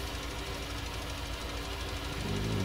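A Deutz tractor engine runs steadily nearby, a low, even, knocking diesel thrum with a constant rhythmic pulse and no voices.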